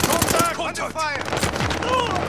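Rapid automatic gunfire bursts out in Call of Duty: Modern Warfare, with several sharp, close volleys cut between game voice callouts and a shouted warning.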